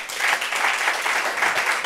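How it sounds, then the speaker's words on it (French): Audience applause at a gathering of blind and visually impaired people in Réunion, a steady dense wash of clapping from a crowd, loud and continuous throughout without speech. "Applaudissements."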